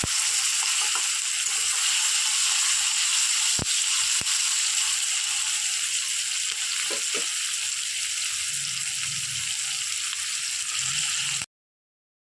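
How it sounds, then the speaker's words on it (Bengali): Tomato, capsicum and onion fry in a pan for a vegetable gravy pasta, giving a loud, steady sizzle with a few faint stirring clicks and no voices. "টমেটো, ক্যাপসিকাম, পেঁয়াজ সবই কিন্তু মোটামুটি ভাজা হয়ে গেছে"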